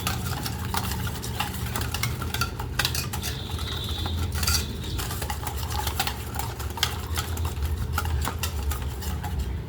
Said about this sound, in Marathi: हे पण छान मिक्स करून घ्यायचं आहे आपल्या त्या मसाल्याने